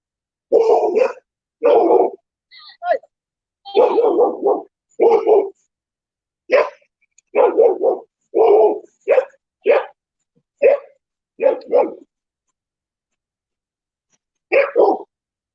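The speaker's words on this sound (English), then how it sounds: "The dogs don't really like scooters." Dogs barking in short bursts and clusters of yips, fairly close and loud, with gaps of quiet between them and no talking over them.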